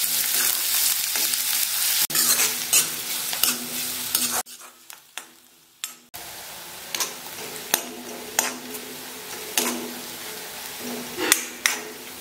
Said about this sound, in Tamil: இந்த வெங்காயம் வதங்கிறது ரொம்ப ரொம்ப முக்கியம். நல்லா சாஃப்டா வதங்கி வரட்டும், அது வரைக்கும் வதக்கிக்கலாம்.